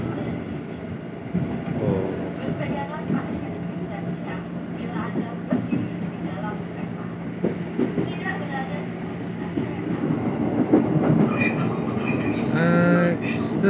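KRL Commuter Line electric train running near Bekasi station, a continuous rumbling cabin drone with rail clatter, rising toward the end with a brief squealing tone, and a voice exclaiming briefly.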